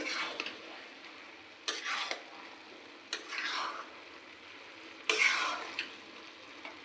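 A spoon stirs prawn pulao in a pot, topped with chopped coriander leaves, slit green chillies and garam masala after resting under the lid, giving a few separate scraping bursts with quiet gaps between them.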